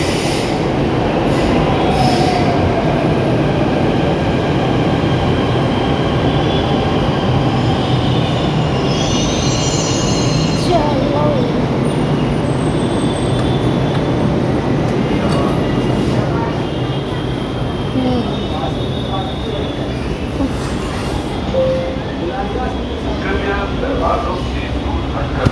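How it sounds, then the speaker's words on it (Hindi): A metro train arrives at and runs through a station, with loud continuous rumble, squealing wheels and rattling carriages filling the whole stretch as a voice talks faintly beneath. "और जस्ट मेरी मेट्रो अभी आ रही है, एक तो निकल गई थी, एक अभी आ गई है।"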